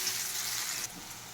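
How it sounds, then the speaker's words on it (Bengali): Dried chillies and radhuni seeds sizzle in hot oil as a faint, steady, airy hiss that briefly dips partway through. "শুকনো লঙ্কা আর রাঁধুনি ফোড়ন দিয়ে দিলাম"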